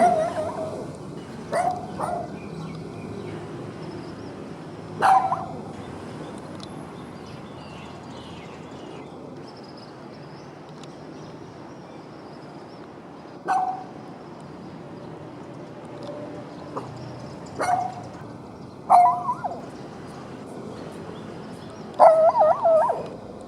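Dogs bark and yip on a street in Vientiane, Laos, in short scattered bursts over a steady outdoor background, with occasional whimpering between the barks.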